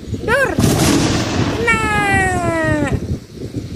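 A toy gun fires at a toy rhino, giving a sharp bang followed by a rising, warbling electronic sound effect that sweeps down over a few seconds, loud and close.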